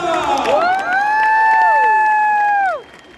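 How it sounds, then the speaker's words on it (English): Crowd at a jousting tournament between Canadian and American knights cheering and applauding, with loud sustained whoops and shouts from nearby spectators over clapping, then cutting off abruptly near the end. "A nice round of applause for Deborah!"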